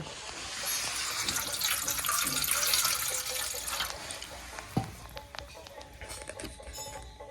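Water runs steadily into a bowl for a few seconds in a home kitchen while coconut pitha is prepared, then thins to trickles and drips with a small knock of the vessel.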